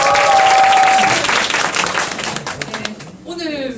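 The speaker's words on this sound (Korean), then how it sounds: "그래서 응원의 박수 한 번 더 부탁드립니다." A lecture audience gives a burst of encouraging applause that thins out and fades toward the end, where a brief electronic tone sounds.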